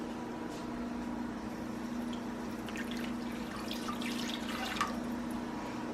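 Warm water, one and a half cups, poured into a bowl holding dry yeast at home; a steady, soft trickling and splashing runs throughout, fairly close, with faint drips, no talking.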